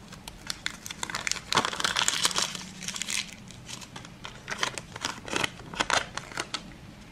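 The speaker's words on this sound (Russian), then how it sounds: "И последний пакетик на сегодня. Открываем." A paper surprise packet is torn and unfolded up close, giving bursts of crinkling and rustling paper with short crisp snips and pauses between handlings.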